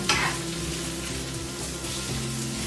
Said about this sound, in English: Now I'm stirring these occasionally as they cook so they don't burn.